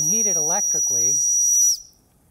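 An electrically heated model steam engine gives a high, steady whistle with a hiss of steam, joined early by warbling lower tones, then cuts off abruptly, leaving faint background noise.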